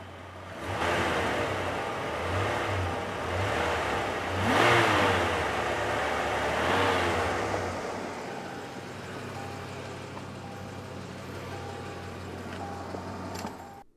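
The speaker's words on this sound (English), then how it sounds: "You want to go around back and get a sound of the exhaust?" The 5.0 HO V8 exhaust on a 1989 Lincoln Mark VII LSC rumbles from behind the car, blipped in several sharp revs before settling back to a steady idle.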